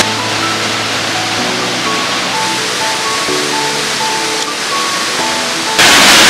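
Steady, dense roar of a waterfall in Blyde River Canyon, South Africa, loud and close, with a continuous broadband rush that swells slightly louder near the end.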